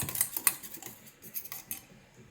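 A spoon stirs curd with a little sugar in a bowl, making a few quiet scattered clinks and scrapes in an irregular rhythm, close by and faint, with no voice.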